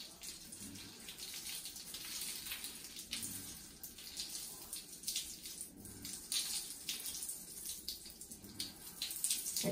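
Tap water runs steadily and fairly faintly into a basin as a small child washes her shoes, a continuous splashing hiss with no talking.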